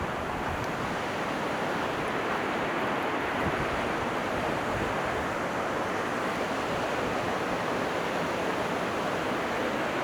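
Lata Senlui waterfall at Pos Lenjang, Kuala Lipis, gives a steady, dense roar of rushing water, loud and unbroken throughout with no voices.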